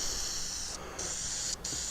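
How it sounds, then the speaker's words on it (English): Spray paint hisses onto a wooden scroll saw Halloween project, a steady, close airy hiss with two brief pauses where the nozzle is released. "and then they'll be ready to spray."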